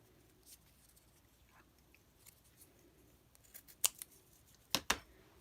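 Scissors snipping through folded paper for a snowy winter craft, a few faint scattered snips early, then a pair of sharper, closer cuts near the end, in an otherwise quiet room.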